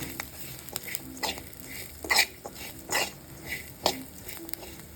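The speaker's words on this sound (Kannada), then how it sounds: "ಫ್ರೈ ಮಾಡ್ತೀನಿ" Spicy mutton boti frying in a pan, with a soft steady sizzle broken by several scraping stir strokes and light clinks of a utensil against the metal, close and moderately quiet.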